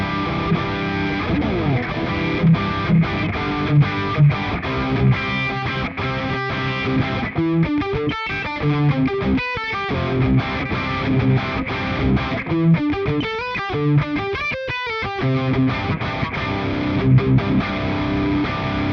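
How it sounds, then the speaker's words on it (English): An electric guitar is played through a Prometheus pedal set to its wild channel, giving a heavy, saturated rhythm tone with chugging chords and brief pauses between riffs. "Now let's try the big Prometheus. I have set it at the wild channel because that's what I use for heavy rhythm tones."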